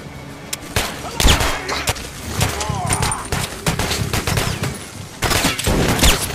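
Pistol shots and other gunfire in the shooter game Metro Last Light, a rapid barrage of loud, sharp reports clustered in bursts, with speech-like game sounds mixed in.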